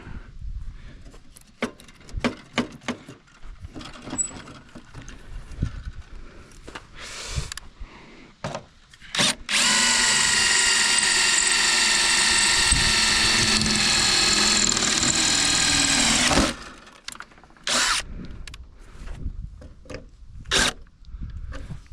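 A power drill bores holes for a Gen 4 snowflap on a 2014 Ski-Doo Summit XM 800R, first in short stuttering bursts, then one long steady whine of about seven seconds, followed by brief pulses, close and loud.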